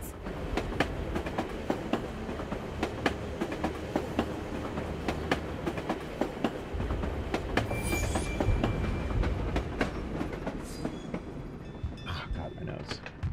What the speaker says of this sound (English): Tram will take me to the edge of the Volga.